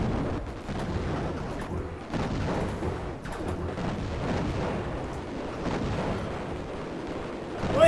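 Explosions and gunfire from the shoot-'em-up video game Raptor: Call of the Shadows form a dense, continuous barrage of booming blasts that holds steady throughout.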